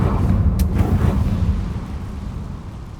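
A Confringo fire-blasting spell from Hogwarts Legacy bursts with a sharp crack, then a heavy rumbling boom that slowly fades over a few seconds, with no one speaking.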